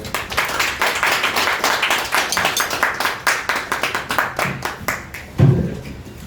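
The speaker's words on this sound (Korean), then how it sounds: "여러분 뜨거운 박수로 환영해 주십시오" Sustained audience applause fills a seminar hall at a free-market research institute's third-anniversary event, dense steady clapping from many hands that gradually thins, with a brief low voice near the end.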